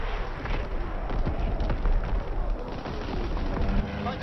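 Rapid, dense artillery barrage and gunfire from a Call of Duty WW2 match, loud and continuous, a rumbling stream of booms and shots with no pauses.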